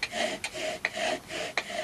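A wooden bow drill saws back and forth against wood to make fire, a steady rasping rub in even strokes with sharp clicks at each reversal, close and alone.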